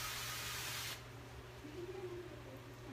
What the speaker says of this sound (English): What I like to use for greasing my pans is this from Chosen Foods. It's a spray